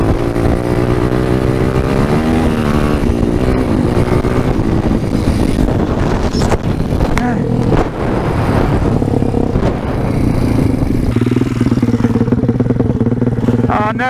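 Vintage Honda CR125 two-stroke motorcycle engine revving loudly and continuously while riding on a trail, pitch rising and falling with throttle changes, close to the microphone with steady wind noise throughout.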